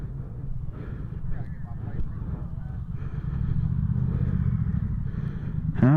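Motorcycles, including superbikes and Harleys, rumble at a bike night gathering with a continuous low engine drone that swells slightly midway and has wind noise and chatter. A brief rev is heard at the end.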